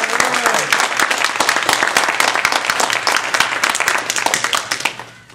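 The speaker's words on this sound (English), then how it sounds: "Let's give yourself a round of applause." Audience applauding at a Toastmasters-style district division evaluation contest, a dense sustained roar of many clapping hands for about five seconds before fading out at the end.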